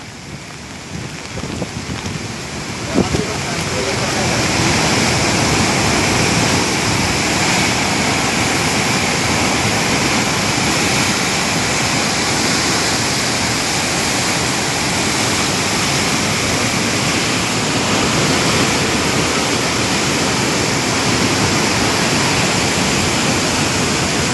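Heavy water rushes through the open gates of the Harike Headworks barrage, Ferozepur, roaring continuously and loudly after a short quieter start, a dense, unbroken torrent with no voices.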